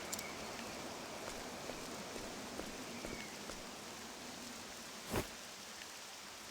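Steady, dense rain in the video game Octopath Traveler 2 patters without a break, with one brief louder knock partway through.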